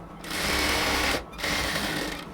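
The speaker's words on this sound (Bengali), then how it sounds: "এটাকে একটা চাপ সেলাই দেব।" An electric sewing machine runs a fast, even stitch along a salwar leg in two close bursts separated by a brief pause.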